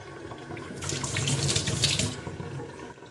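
Water running from a household tap in Donetsk, a steady hissing flow that starts abruptly, holds for over a second, then eases off, close and moderately loud.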